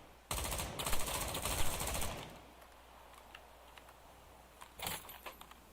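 Gunfire in the video game XIII comes as a dense burst of rapid shots for about two seconds, then a few scattered sharp reports a little later, with no talking.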